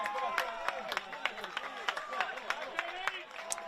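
A home crowd at an NPL men's football match between Eastern Suburbs and Gold Coast Knights cheers and claps for a corner kick, a busy rumble of applause and voices with scattered sharp claps.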